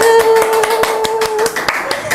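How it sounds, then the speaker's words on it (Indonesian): Clapping breaks out for Bawaslu, a run of distinct close hand claps at an uneven pace, with a steady electronic tone and some voices beneath. "Tepuk tangan dulu buat Bawaslu."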